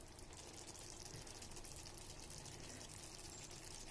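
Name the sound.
pouring water into lauki kofta curry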